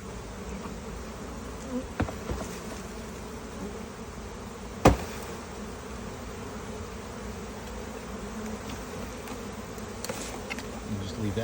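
A steady, close buzzing of many honeybees hums throughout during installation into a nuc box, broken by a few faint clicks and one sharp tap.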